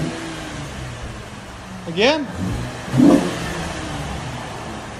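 A 2012 Cadillac CTS 3.6-liter V6 with stock exhaust revs twice in quick succession, each rise and fall brief and close, over steady engine noise, with a voice speaking briefly.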